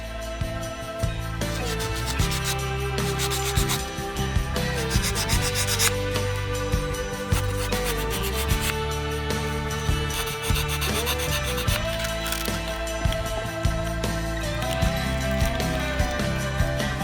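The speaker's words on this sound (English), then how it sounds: "the easiest part is just to sand these corners round so it fits in the slot" Wooden corners of a napkin holder piece are sanded round, a continuous close rubbing rasp with repeated strokes over a constant background of music.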